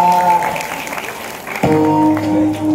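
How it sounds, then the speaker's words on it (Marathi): An audience claps at a Durga festival gathering, a brief burst of applause mixed with voices and tonal sounds in the background. "नाही पैसे तर कम से कम टाळ्या तर वाजवा बापा"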